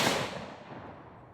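A single loud shot from an RPK rifle firing 7.62x39 full metal jacket rounds, a sharp close blast whose echo and rumble fade over about a second outdoors.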